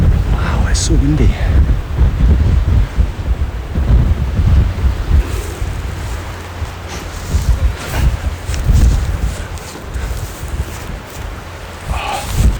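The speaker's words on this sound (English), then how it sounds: "So windy." Strong gusting wind buffets the microphone in low, continuous rumbling bursts, with occasional breathy sounds and faint voices underneath.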